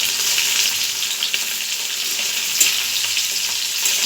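Potol and potato curry with fried prawns sizzles steadily in a pan as it is stirred, a close continuous hiss with faint scraping.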